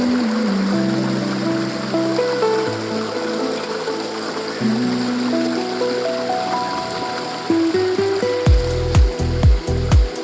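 Water rushing steadily through a gold prospecting sluice box at a bedrock digging site, a continuous stream-like flow with a few louder splashes near the end, under background music.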